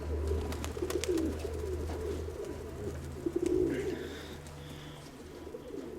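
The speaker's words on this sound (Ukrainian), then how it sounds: "П'ятий голубок, ось ось п'ятий голубок, він теж сьогодні непогано політав." Pigeons coo close by in low, soft, rolling bursts, a few separate calls over a quiet outdoor background.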